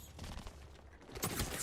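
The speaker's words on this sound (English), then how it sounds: "Gunshots heard in the distance." Distant gunfire from a firefight in the battle royale game Apex Legends, a rolling spread of shots that swells into louder bursts toward the end.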